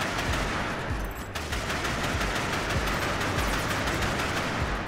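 A rocket-firing machine gun in the game NIMRODS: GunCraft Survivor pours out dense, rapid bursts of shots and blasts that keep going without a break, loud and close the whole time.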